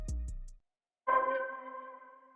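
A synthesizer one-shot chord from a sample kit rings out cleanly and sustains after a short, separate tonal sound and a brief gap of silence.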